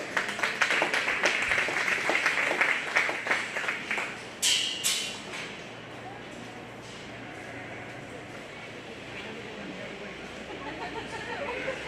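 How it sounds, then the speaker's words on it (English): Applause from a county fair crowd at a 4-H and FFA beef and bucket calf show, clapping for exhibitors, steady spattering claps that thin out after a few seconds into a low murmur of the arena. "Let's give those two exhibitors a round of applause"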